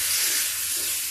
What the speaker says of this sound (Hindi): ये देखिए इसके ऊपर से लगा दिया ये तड़का।